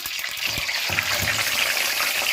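Chicken pieces frying in hot ghee, a steady close broadband sizzle with a few faint knocks at the start, constant and uninterrupted with no talk.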